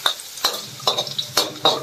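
Chili and spices are stir-fried in a pan, with five rhythmic scraping strokes of the utensil over a steady sizzle, close and fairly loud.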